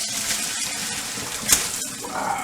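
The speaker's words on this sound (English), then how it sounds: "we're going to just go ahead and drain the water out of these" Hot water is poured out of a pot of boiled artichokes, giving a steady, close splashing rush with a brief louder splash partway through.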